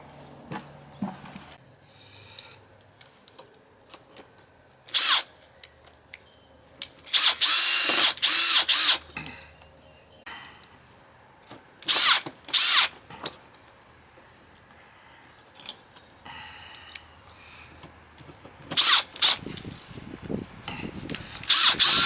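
A power drill drives screws while an outdoor faucet damaged by a snowplow is replaced. Several short, loud whirring bursts come up close, separated by quiet pauses.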